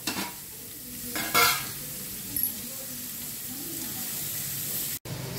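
Small chopped onions fry in a pan for drumstick sambar, giving a loud, continuous close sizzle. Stirring scrapes and clatters break in near the start, and the sound cuts out briefly just before the end.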